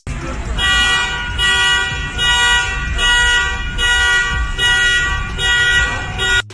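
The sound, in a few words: car alarm sounding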